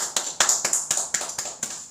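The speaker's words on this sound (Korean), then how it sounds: "우리 예배를 받으신 하나님께 영광의 박수 올리겠습니다" A congregation in a church gives a short round of applause in worship, heard as a string of about a dozen separate sharp claps in a fairly steady rhythm, close and clear, with no talk over them.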